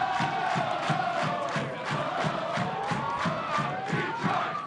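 Northern Guard supporters of Detroit City FC cheer and chant as a large crowd, with rhythmic thumping drum beats under sustained, loud collective shouting.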